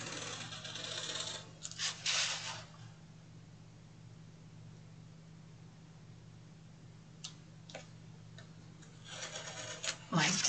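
A craft knife drawn along a ruler through cardboard, giving scratchy rasping strokes in a couple of short bursts, then long quiet stretches with light taps under a steady low hum.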